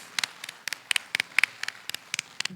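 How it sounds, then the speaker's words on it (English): Audience applause for award winners at a convention gala, heard as a dozen or so sparse, distinct hand claps in an uneven rhythm, fairly close and moderately loud, with no talking. "one more round of applause for all of our award winners"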